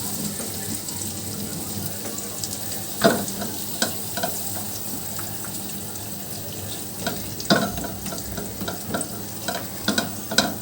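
Butter melts and sizzles in a pan for a white sauce cheese pasta: a soft, continuous frying hiss broken by occasional clinks and scrapes of stirring.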